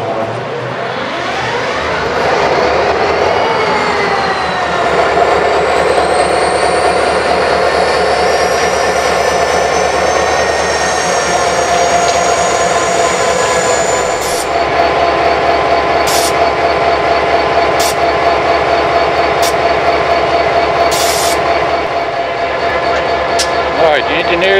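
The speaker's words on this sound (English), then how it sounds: "That noise you hear is a fuel pump priming it." An SD40-2 diesel locomotive starts up with its fuel pump priming, a loud steady whine and drone that rises in pitch and holds, joined by sharp clanks and hisses later on.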